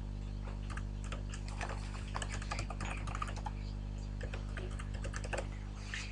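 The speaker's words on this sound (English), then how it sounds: "type in my credentials" Someone types login credentials on a computer keyboard, a dense, continuous run of close key clicks with quick irregular rhythm over a steady low hum, no talking.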